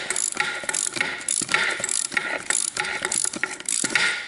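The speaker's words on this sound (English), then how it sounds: "for the sake of hearing the ratchet work, we'll do it by hand." A hand ratchet fitted with a Snap-on swivel socket clicks in quick, uneven bursts as it is worked back and forth, loud and close, with short pauses between strokes and no talk.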